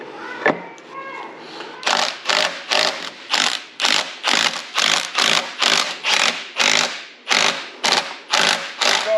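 Ratcheting wrench clicking in a fast, regular rhythm while torquing bolts on a transfer case, about a dozen even bursts of rapid metallic clicks, close and loud, with no talking.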